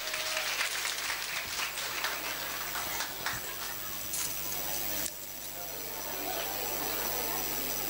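Broadband crackling applause from a college event audience fills the whole stretch, steady and dense, with a brief dip midway before continuing.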